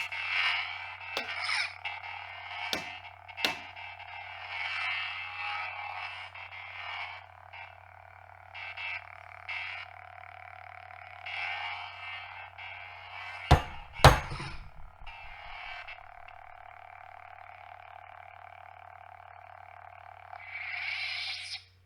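A Sabneo V7 lightsaber in its classic sound mode hums with a pulsing electric buzz, broken by sharp clash hits and thumps, including two loud strikes near the middle, before settling back to a steady hum.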